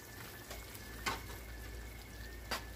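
Salsa goes into a pan of cubed steak and potatoes for a Puerto Rican dish, giving a faint, steady frying sizzle with two soft stirring scrapes, quiet and without talk.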